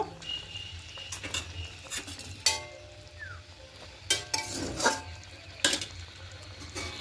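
Pieces of catla fish and green chillies dropped into a frying pan, giving faint sizzling with a few sharp clinks and taps of utensils against the pan, quiet and close, with no voices.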